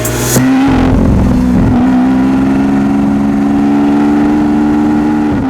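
A white-and-black carbon-fibre Lamborghini Aventador SV Roadster V12 roars loudly up close: a sharp blip at the start, then a sustained high rev that holds steady for several seconds before easing off.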